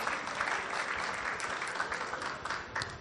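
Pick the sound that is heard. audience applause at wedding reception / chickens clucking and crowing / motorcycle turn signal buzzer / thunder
audience applause at wedding reception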